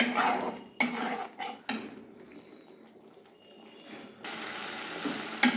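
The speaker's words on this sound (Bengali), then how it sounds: "এবারে আমি মশলাগুলো ভালোভাবে পেস্ট করে নেব আরও দু মিনিট পর্যন্ত যতক্ষণ না মশলার থেকে তেল বের হয়ে আসছে" Metal utensil scraping and clattering in a pan while spice paste with chili powder cooks down for a Bengali potol and prawn curry, several sharp bursts of stirring separated by quieter stretches of faint frying.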